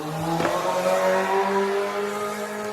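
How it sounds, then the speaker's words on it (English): Motorcycles passing through a residential neighborhood: a loud engine roar with shifting, revving tones that holds close and then eases slightly, with no talking. "we have just motorcycles today in the neighborhood, and it's very disruptive"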